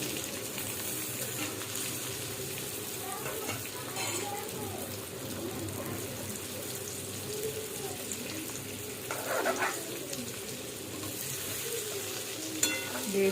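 Stuffed bitter gourds fry in a wok of hot oil seasoned with mustard seeds, cumin and asafoetida, giving a steady broadband sizzle with light clatter from stirring throughout.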